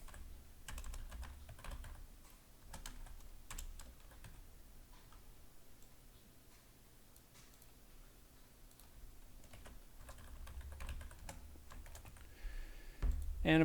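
Typing on a computer keyboard while writing an email: faint, irregular clicks and taps in short runs, quiet and close, with brief pauses between bursts and no speech.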